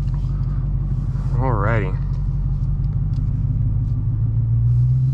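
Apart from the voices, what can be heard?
Dodge Challenger Hellcat driving off, engine rumble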